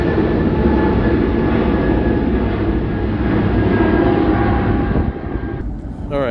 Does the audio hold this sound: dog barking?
no